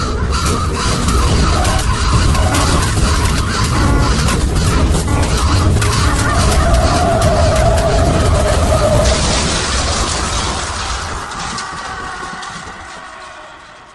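A car skids and crashes on a road: a long, loud, harsh screeching roar that shifts character partway through, then gradually fades out.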